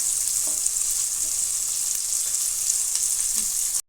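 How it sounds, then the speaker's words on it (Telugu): Bitter gourd (boda kakarakaya) with onions frying in a pan, a steady close sizzle with a few soft stirring knocks, continuous until it cuts off abruptly just before the end. "ఇప్పుడైతే వీటిని కొంచెం వేగ ఇవ్వాలండి"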